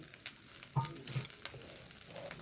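Rice frying in a pan with grated gondhoraj lemon zest, a soft close sizzle with a few stirring clacks and scrapes, no voices.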